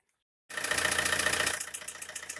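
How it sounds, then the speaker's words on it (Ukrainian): A car engine cranks and catches abruptly after the battery is reconnected, then settles into a steady, close idle with a rhythmic pulsing throb. "завели ми наш мотор"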